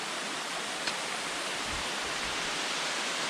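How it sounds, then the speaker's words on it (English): A waterfall on a side loop near Ice Gulch, heard as a steady, broadband rush of falling water that stays constant and fairly close throughout, with no voices. "we took the little side loop to come out to this waterfall."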